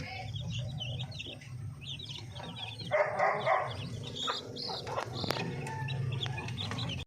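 Native Darag chickens and chicks on a Filipino farm, with soft clucking and thin chick peeps scattered over a low rumbling background, plus a brief louder burst of chatter in the middle.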